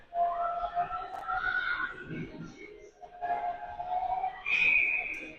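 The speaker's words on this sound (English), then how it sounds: "We get a whistle, out of bounds puck." At an ice hockey game, a referee's whistle sounds in piercing tonal blasts, the last one sharp and high, over the murmur of the arena.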